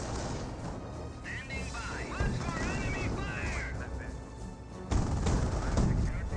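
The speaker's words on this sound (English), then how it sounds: "Mortar half track now barraging somewhere." A mortar half-track barrage in Company of Heroes, continuous rumbling battle fire with rattling gunfire and heavy impacts throughout, one louder blast near the end, under a commentator's voice.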